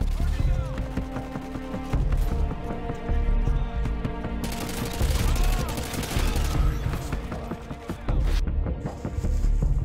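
Rapid automatic bursts from an assault rifle in Call of Duty: Modern Warfare 2 (2009) hammer out in loud, dense volleys with brief gaps between them, the firing sustained and close across the whole stretch.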